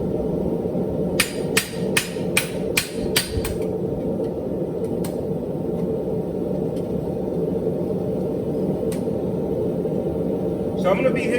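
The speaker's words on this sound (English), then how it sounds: "I'm going to be hitting up around that toe quarter so I can start bringing that toe in." Hot horseshoe toe hammered at the forge, heard as a quick series of about eight sharp ringing metal strikes early on, then sparse single taps over a steady low rumble of forge noise.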